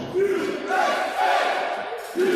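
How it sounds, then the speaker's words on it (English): A wrestling crowd at a title event chants and cheers in a loud, sustained roar with rising rhythmic swells. "Old Glory seems to be drawing strength from the chants of this crowd"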